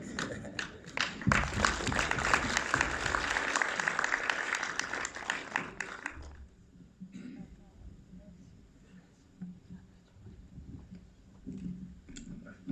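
Audience at a film premiere in Orléans gives dense sustained applause for several seconds, then it fades into scattered claps, murmurs and coughs from the room.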